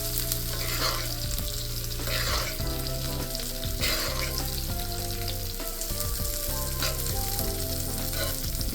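A ribeye steak sizzles loudly in hot browning butter, a dense close frying hiss with periodic bursts and spattering pops as fat is stirred and spooned.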